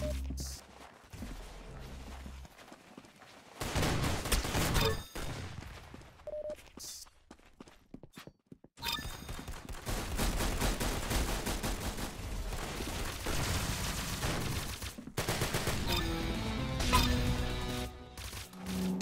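Gunfire crackles in the Roblox shooter Arsenal, with bursts of rapid shots and impacts broken by short quiet gaps, loud and close over game effects.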